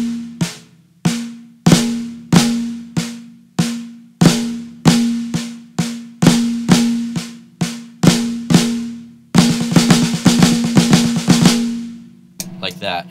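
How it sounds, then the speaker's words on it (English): Sharp strikes on a drum kit play pataflafla sticking patterns, crisp hits with ringing decay, then a dense rapid fill before a final accent, close and loud. "a pataflafla goes like this. Right flam, left, right, left flam."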